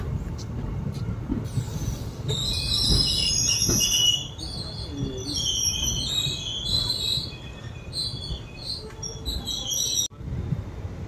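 An express train departs Mettupalayam station, rumbling continuously with high-pitched metallic squeals from the wheels, and a faint chirping layer sits over the steady low roar.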